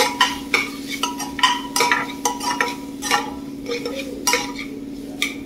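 A spoon scrapes and knocks steadily against a pan as ginger garlic paste is stirred into tomatoes, with a low hum underneath and a soft sizzle between the distinct, evenly spaced strokes.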